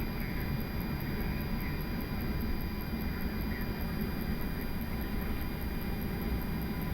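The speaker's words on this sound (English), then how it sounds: "And starting engine number 1" Airbus A330-200 jet engine number one starting up, heard from the cockpit as a steady, continuous broadband roar and hum with a faint high whine, constant and unbroken throughout.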